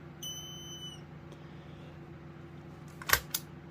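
A high electronic tone sounds briefly, followed after a pause by two sharp, loud chirps from a Kidde smoke alarm test close by in an otherwise quiet room.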